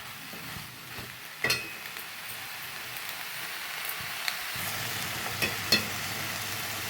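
Washed moong dal sautéing in a pressure cooker, a steady close frying hiss with occasional clinks and scrapes as it is stirred, fairly loud and with no talk.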